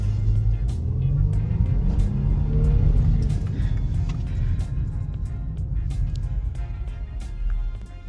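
A 2005 Toyota Highlander with about 317,000 km on it accelerates, its engine swelling into a loud, close droning rumble from inside the cabin before easing off, with no talk.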